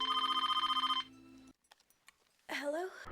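A telephone bell rings in a rapid repeating trill for about a second, then a short gap of faint clicks, followed by a voice speaking at the end.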